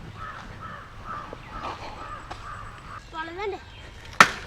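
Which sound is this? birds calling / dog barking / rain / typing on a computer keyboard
birds calling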